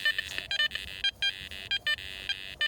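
A Garrett Apex metal detector sounding off over an iron target: a rapid run of short, faint electronic beeps at a choppy, irregular pace.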